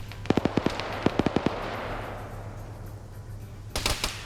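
M240 machine gun fire in a multiplayer military shooter: quick bursts of sharp, cracking shots in rapid clusters, some loud and near, over a constant low background hum, with another burst near the end.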